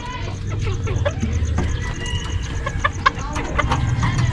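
A hen that wants to lay an egg clucks noisily and repeatedly at close range, in short uneven bursts, with other farm birds faintly around.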